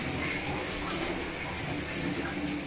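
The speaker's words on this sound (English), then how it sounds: "So I'm about to run a bath" A bathtub fills with water from the tap, a steady, loud gushing stream heard close up without pause.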